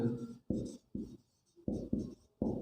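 A pen or chalk writes out a quadratic formula in short scratchy strokes, about six separate bursts with quiet gaps between them, close and fairly soft.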